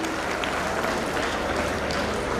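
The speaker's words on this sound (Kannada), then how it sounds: "ಎಲ್ಲ ಭಕ್ತರ ಜೋರಾದ ಚಪ್ಪಾಳೆಯೊಂದಿಗೆ ಆತ್ಮೀಯ ಭಕ್ತಿವಾದ ಸ್ವಾಗತವನ್ನು ಕೋರುತ್ತೇನೆ" Loud, sustained applause from devotees seated in a temple hall during a Sharan Navaratri Dasara Darbar in Basavakalyan, Bidar district, welcoming guests, a dense steady clapping that fills the whole stretch.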